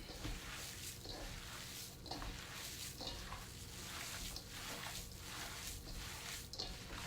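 Beet burger ingredients being mixed by hand in a bowl, with faint, regular squishing strokes repeating roughly once a second over a low steady background hum.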